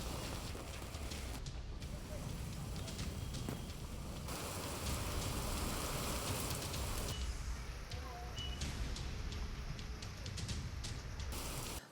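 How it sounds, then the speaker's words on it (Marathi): Heavy rain lashes down in Pandharpur during a thunderstorm with gusty wind, a dense continuous hiss of drops on surfaces heard steadily throughout, fairly distant and even in level. "पंढरपूरला मेघगर्जनेसह वादळी वारा आणि पावसानं झोडपलाय"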